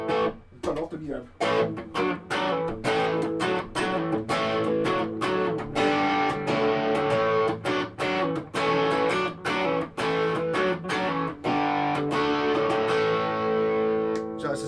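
Distorted electric guitar through a bridge humbucker pickup on a Samick-made Squier Telecaster fitted with upgraded Warman pickups, loud and steady, with rhythmic chord strums and sharp stops, played alone.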